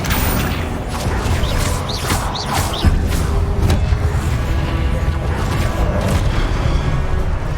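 Confringo fire spell cast in Hogwarts Legacy: a dense, continuous burst of booming blasts and crackling impacts, with a few bright whooshing sweeps over a loud, steady roar of combat.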